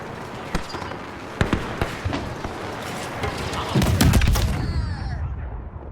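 Grenade blast in a Star Wars Battlefront II Supremacy battle on Felucia: a loud low boom swells near the four-second mark amid scattered blaster fire and thuds, with game voices talking over the combat.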